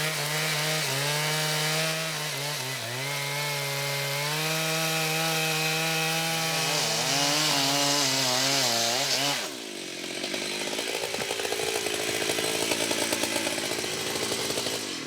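A chainsaw roars steadily at close range while cutting into a large rainforest tree during felling, its engine pitch wavering under load before shifting to a rougher, lower cutting sound near the end.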